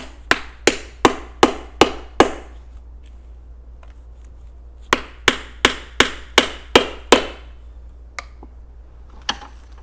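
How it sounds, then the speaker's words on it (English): A mallet taps plant stand parts together in sharp, evenly spaced knocks: a run of six, a pause, a run of seven, then a few scattered lighter taps, close and loud with no talking. "you can just use it with the hammer"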